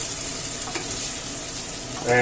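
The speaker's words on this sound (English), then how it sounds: "I'll move it around every now and then, just so that the rice gets nicely coated with the" Rice is stirred around a hot pan as it fries with paprika and chorizo for paella, a steady close sizzle with a few scraping stirs and a louder clatter at the end.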